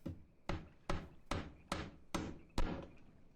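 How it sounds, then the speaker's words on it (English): Hammering in a boat-building shack in the online game Wurm Online: seven sharp wooden blows spaced roughly evenly, about two per second, close and crisp, with no talking. "There's a lot of hammering and banging in this shack."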